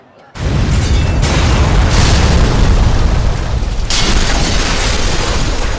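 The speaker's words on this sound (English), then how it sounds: "and then there's this huge explosion" A sudden loud boom erupts from silence into a sustained, roaring rumble that stays heavy and dense throughout, like a big explosion with rolling aftermath.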